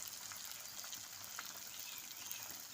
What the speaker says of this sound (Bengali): পরিমাণ মতো জল আমি দিয়ে দিচ্ছি বন্ধুরা এঁচোড়ের মধ্যে।